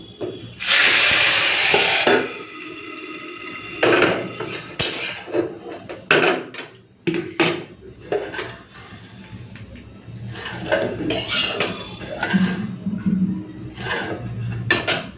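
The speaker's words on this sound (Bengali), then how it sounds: "ঢেলে দিই, ঢেলে দিয়ে ঢাকা দিয়ে দেবো" Fried cumin poured into a pot of khichuri, then a lid set on top: scattered clatters, scrapes and knocks of metal cookware, loud at the start and then intermittent and sharp at close range.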